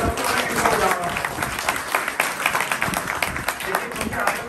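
Crowd at a Hanuman temple gathering on Bela Road in New Delhi claps vigorously and continuously, with voices mixed in among the dense, fairly close applause.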